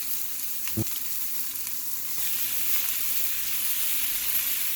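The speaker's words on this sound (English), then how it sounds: "I'm going to be adding a quarter cup of butter" A NY strip steak fries in a pan as butter goes in, giving a steady close hiss with one soft thud near the start and a slight lift in the sizzle afterward.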